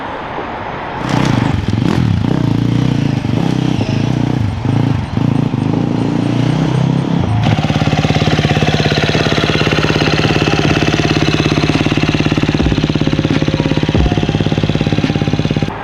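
A 2019 KTM 350 EXC-F dirt bike engine runs loud and close, starting with rough choppy revving, then settling into a steady, dense, buzzing roar for the remainder.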